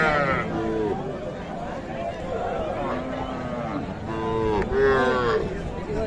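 Young heifer calves moo repeatedly, some drawn-out and rising, amid a busy crowd of people talking and haggling prices at Khochabari cattle market.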